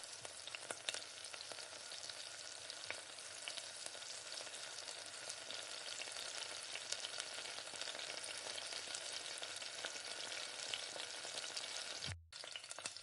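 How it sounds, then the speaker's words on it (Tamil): Whole spices (cinnamon, cloves, cardamom and poppy seeds) fry in oil for a Chettinad pepper chicken, giving a steady, dense sizzle that holds evenly throughout, with a brief break near the end and no talking. "பட்டை, கிராம்பு, ஏலக்காய், கசகசா எடுத்து வச்சுருக்கிறது எல்லாத்தையுமே ஒன்றா சேர்த்து நல்லா பொரியட்டும்"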